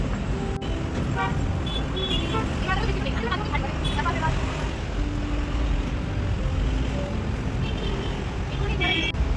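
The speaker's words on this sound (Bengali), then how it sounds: "বাইরে খুবই গাড়ির আওয়াজ" Busy road traffic outside a city balcony in Bangalore, with a steady wash of passing cars and buses and repeated horn toots, loud and continuous, while voices murmur in the background.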